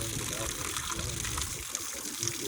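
Water pours steadily into a backyard Hot Wheels sandbox and soaks through a screen at the bottom into the ground, making a continuous close gushing rush with a few brighter splashes.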